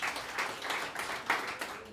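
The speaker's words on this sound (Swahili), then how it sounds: "Tumpigie makofi tafadhali." Mourners at a memorial service give a short round of applause, a soft, even patter of many hands in a room with a few louder swells, fairly faint and brief.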